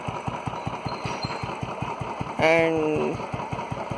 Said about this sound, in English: there is no tapped sound and the engine is very smooth